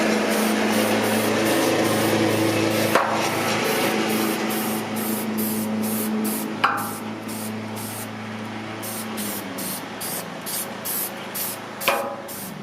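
Continuous hissing spray from an aerosol can of rust converter onto a Mazda MX-5 Miata fender, steady and close, with a few faint clicks and knocks breaking the hiss.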